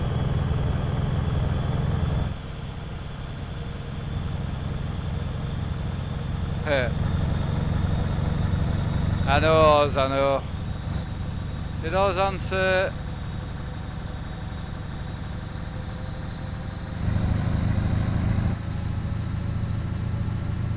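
A low droning truck engine in Euro Truck Simulator 2 hums continuously throughout, struggling at steady revs, while someone talks briefly over it in a few short bursts.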